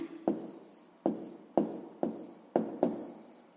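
A pen or pencil writes an answer on paper in short, distinct strokes, six or so scratchy bursts spaced about half a second apart, close and quiet.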